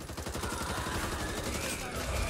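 Dense, continuous gunfire from a Back 4 Blood zombie fight, with rapid overlapping shots and a busy background mix running unbroken throughout, loud and close.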